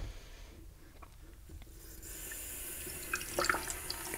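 Water runs faintly at a sink in a jewelry workshop, a soft trickle with light drips and small handling noises, quiet and close, growing slightly fuller near the end.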